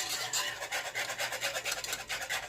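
Vegan gluten-free gravy whisked in a pan, a fast rhythmic scraping and rasping of the whisk against the pan, close and steady with no talking.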